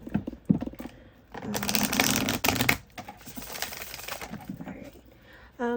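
Tarot cards are shuffled in bursts of rapid papery riffling and flicking, with short quiet pauses between, close up and fairly clear.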